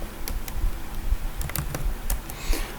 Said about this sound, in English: I can type create view.